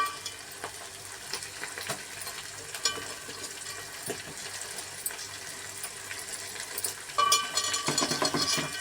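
Fish pieces drop into onions frying with curry leaves, and the sizzle is soft and crackling, with scattered pops and stirring clatter. A louder burst of frying comes near the end.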